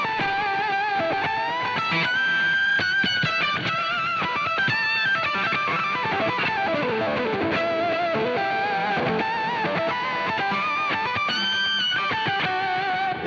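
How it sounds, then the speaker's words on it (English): Electric guitar played through a Fractal VP4 octave distortion effect, a dense, buzzy, ripping tone with chords and note runs sustained steadily and loudly throughout, no voices. "Here's the octave distortion."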